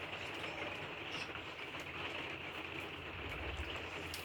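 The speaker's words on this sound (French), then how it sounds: "vous entendez la pluie, je pense" Steady, continuous rain noise fills the scene, a dense hiss of falling water with no voices.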